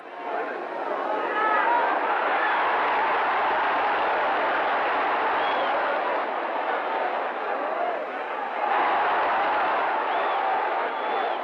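A boxing crowd at a 1952 fight between Sugar Ray Robinson and Carl 'Bobo' Olson keeps up a continuous roar of shouting and chatter, heard on an old, band-limited broadcast recording.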